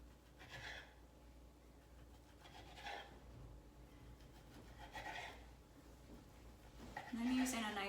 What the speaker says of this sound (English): I'm using a nice sharp serrated knife, so this makes it really easy.